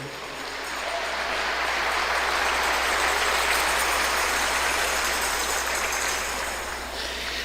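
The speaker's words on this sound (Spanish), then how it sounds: "den un fuerte aplauso al que vive para siempre" Applause from a church congregation, a dense, steady crackle of clapping hands filling the hall at moderate distance, swelling slightly and holding for several seconds before easing off.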